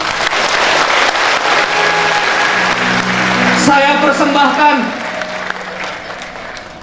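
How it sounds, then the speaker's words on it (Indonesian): Audience applause at an Indonesian motivational seminar, a loud sustained burst of clapping from a crowd that fades as a speaker begins talking over it through a microphone. "Tepuk tangan buat beliau."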